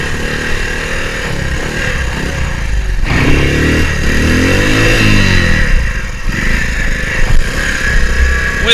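Three-wheeler engine revving hard while climbing a hill, a loud, close buzzing motor with rising and falling pitch as the throttle surges, heard alone.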